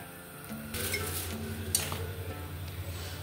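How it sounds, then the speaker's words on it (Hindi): A paratha cooks on a hot tawa griddle with a soft, steady sizzle, joined by a few brief scraping and clinking touches of a utensil against the metal surface, moderately close and fairly quiet. "एक पराठा इस पर है तवे पर"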